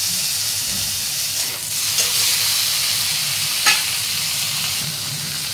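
Chopped tomato goes into a pan of fried onion, raising a loud, steady sizzle and hiss with stirring scrapes and a couple of sharper clinks partway through.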